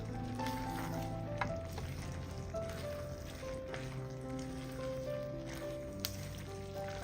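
Raisins sizzle faintly in a pan as they are stirred, a soft steady crackle of frying with occasional louder clinks and scrapes of the spoon against the pan.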